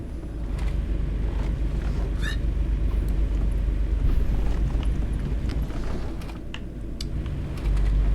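A truck engine in a truck simulator game drones as a low, continuous rumble, joined by scattered clicks and mechanical knocks.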